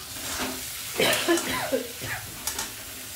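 Previously fried potatoes go into a pan holding pointed gourd for a poppy-seed curry, giving a few close scraping stirs over a soft sizzle, with a faint voice in the background.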